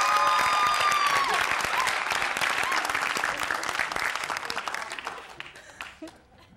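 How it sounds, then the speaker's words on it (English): A crowd applauds with dense, lively clapping that gradually fades out over several seconds, at a game show taping of The Newlywed Game. "Why are you applauding?"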